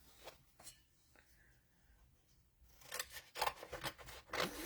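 Scissors snip stickers out of a sticker sheet close up, first a few faint cuts, then a run of louder, crisp rapid snips toward the end.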